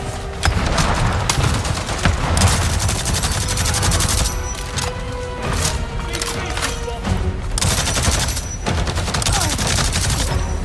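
Sustained gunfire in Avatar: Frontiers of Pandora, a dense, continuous fusillade of rapid shots with deep booming impacts running throughout the clip at steady loudness, with little talk.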